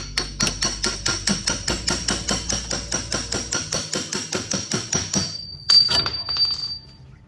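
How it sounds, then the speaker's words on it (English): Steady, rhythmic metallic hammer blows on a metal punch, driving a front CV axle into a Mercedes GLS, about twenty sharp ringing strikes in a row, then a few louder irregular knocks and clatter. "I just use a punch and just punch it in"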